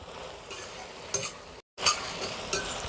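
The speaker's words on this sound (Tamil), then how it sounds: "இப்போ வெங்காயமும் தக்காளியும் கொஞ்சம் நல்லாவே வதங்கிடுச்சு" Onions and tomatoes sautéing in a pan for a village-style chicken gravy, a soft sizzle broken by a few short scraping stirs, with a brief cut to silence midway.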